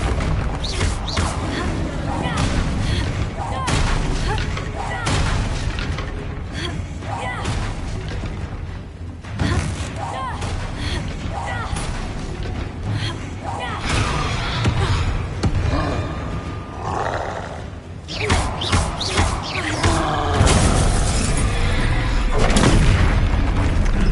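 Repeated Confringo fire-spell blasts in Hogwarts Legacy, played on PS5, boom in loud bursts over dense combat noise and a music bed, continuing throughout.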